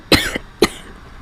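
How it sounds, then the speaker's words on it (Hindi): Two separate coughs from a person with a bad cold, close and fairly loud, about half a second apart, with no talk around them. "सर्दी होने से बात करने से मेरा खांसी भी होता है"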